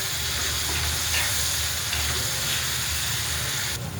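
Onion, tomato and kasuri methi frying in hot oil, a loud continuous sizzle and hiss with faint stirring, close up and without talking.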